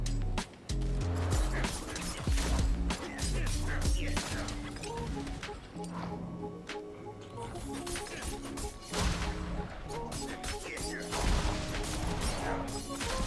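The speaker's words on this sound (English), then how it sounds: "after I fire Penetrating Shot, you can see the Stun Grenades drop" A rogue in Diablo IV fires Penetrating Shot and Stun Grenades drop, producing rapid mechanical clicks, sharp bursts and clattering impacts in a busy stream of combat noise, with faint talk underneath.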